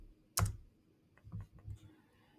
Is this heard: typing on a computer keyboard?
yes